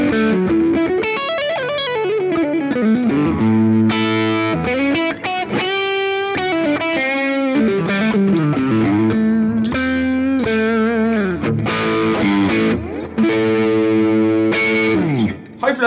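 A heavily distorted electric guitar, a Fender Jazzmaster with EMG pickups, plays chords and riffs continuously, thick and saturated, with no voices over it.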